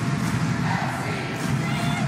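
A soccer crowd in a stadium supporters section gives off a continuous, dense roar of many voices, steady and fairly loud throughout with no single standout cheer.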